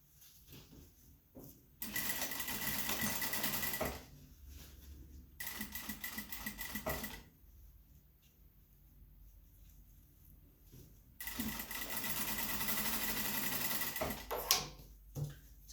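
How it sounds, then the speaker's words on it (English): A sewing machine stitching fabric for a procedural mask, running in three steady whirring bursts of a couple of seconds or more each, separated by quiet pauses, close and clear with no talk. "I'm going to sew down the long straight edge here"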